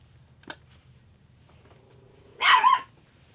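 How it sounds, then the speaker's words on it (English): A small dog gives one loud close bark at a stove after a faint click and a quiet room, a brief double-peaked burst standing alone. "she's barking at the frickin' big stove"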